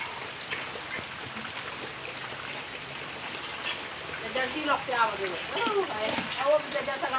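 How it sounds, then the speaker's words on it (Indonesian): Steady rain falls in a remote village, a soft continuous hiss of drops and running water that swells a little toward the end, with some faint background sound mixed in. "ini hujan dari pagi sampai sekarang belum reda-reda"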